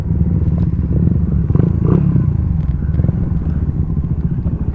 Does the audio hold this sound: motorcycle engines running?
yes